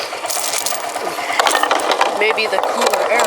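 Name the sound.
engine idling roughly, about to stall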